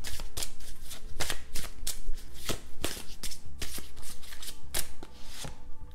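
Tarot cards being shuffled by hand, a quick run of sharp papery riffles and taps in an uneven rhythm, close and clear with no talking.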